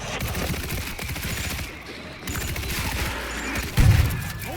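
Rapid gunfire bursts from a World War Z zombie shooter game crackle steadily throughout, with a louder, heavier shot near the end.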